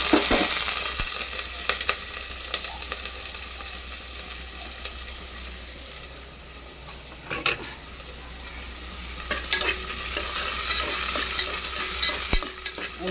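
Onions frying in hot oil for an egg biryani make a continuous close sizzle, broken by scraping stirs and a few sharper clatters, with no talk over it.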